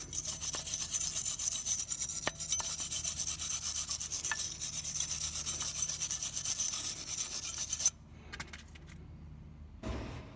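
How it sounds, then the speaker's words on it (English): A wire brush scrubs the brake caliper bracket on a 1997 Nissan pickup's front brakes in steady, close, raspy strokes for about eight seconds. The scrubbing then stops, leaving a quieter handling clatter. "I'm gonna clean the bracket with a wire brush where the pads are gonna be sitting"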